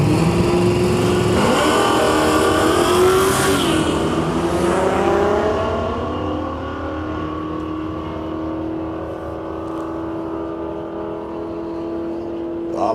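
Drag race cars, including a Holden Commodore, accelerate down the strip at a test and tune meet at Heathcote Park, a loud rising engine howl that fades as the cars pull away into the distance.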